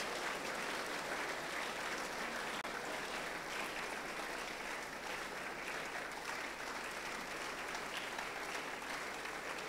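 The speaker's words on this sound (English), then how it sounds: "Please, let's keep on clapping" A crowd claps steadily and densely at a school's 50th anniversary celebration, a sustained, even wash of applause that holds at a constant level throughout with no break and no voices rising above it.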